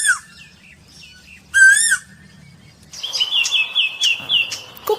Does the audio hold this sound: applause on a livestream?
no